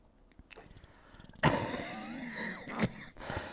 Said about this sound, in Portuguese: até me está a dar uma tosse a mim